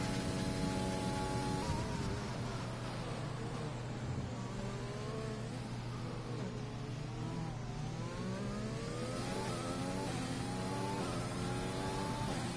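A Formula 1 car from a video game laps Spa during a Belgian Grand Prix esports race, its engine a steady high-pitched whine that climbs and drops through repeated gear shifts and rev sweeps.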